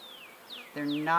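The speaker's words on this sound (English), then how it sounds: "The bees are behaving pretty well. They're just slightly agitated" Slightly agitated honey bees buzz at an open hive during a colony split, a steady insect drone with a few rising and falling whines from individual bees flying close by.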